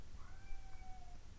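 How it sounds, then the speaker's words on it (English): A cat lets out one drawn-out, wavering meow, faint and somewhat distant, over a low background rumble. "If you can hear a creature crying in the background, that's my cat"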